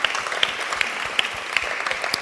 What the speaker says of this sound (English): Deserves a clap, I think.